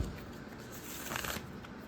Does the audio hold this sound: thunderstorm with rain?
no